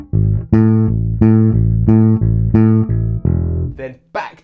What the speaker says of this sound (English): we play these octave or inverted octave patterns which sound like this